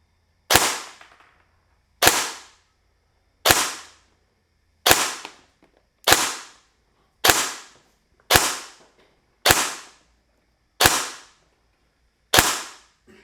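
Shots from a KWA airsoft AEG with a Real Deal Performance piston and Viton O-ring, firing 0.2 gram BBs through a chronograph: ten sharp, snappy single cracks, each alone with a quick decay, spaced about 1.3 seconds apart, close and loud.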